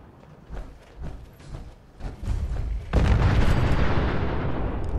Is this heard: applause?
no